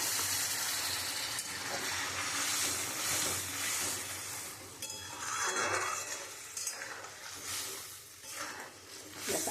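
Egg curry with mustard hisses and sizzles in a frying pan after water is added, a steady broad sizzle with occasional clinks of a utensil against the pan.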